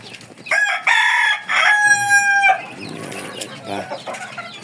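A rooster crows loudly nearby in a long, strained call, followed by softer clucking from chickens, including Rhode Island and Tagalog breeds.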